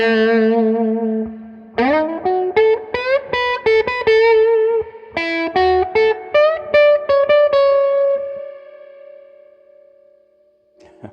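Electric guitar played through a Mosky LM741 overdrive preamp pedal on its germanium setting with gain halfway, a sustained low note followed by a run of clipped, distorted notes and chords ending in a long ringing tone, loud and alone.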